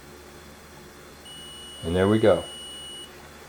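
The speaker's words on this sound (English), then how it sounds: "for continuity, you can hear beep, right?" A multimeter on continuity test gives a steady electronic beep for about two seconds while probing the shielding wire of a Telecaster guitar; someone speaks briefly over the middle of the tone.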